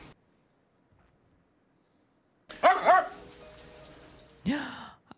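A Jack Russell terrier in a film gives a couple of sharp barks, near and fairly loud, with a further yip after a pause, set against a quiet room background.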